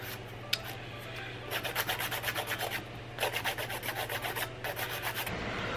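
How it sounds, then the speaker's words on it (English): A fairly coarse nail file rasps across acrylic nails to remove glue residue, quiet close bursts of quick back-and-forth scraping strokes with short pauses between sets. "So I'm gonna go ahead and file all of them."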